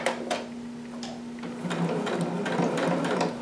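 Sewing machine stitching jumpsuit pieces and backstitching over a seam, a close steady mechanical whir with a constant motor hum and rapid needle clatter, briefly slowing then running on.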